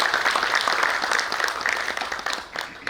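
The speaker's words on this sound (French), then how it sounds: "Ça mérite des applaudissements pour tous ceux qui ont travaillé dans ce sens." Audience at an anniversary event's opening ceremony breaking into dense, sustained applause, many hands clapping loudly and evenly, tapering slightly toward the end.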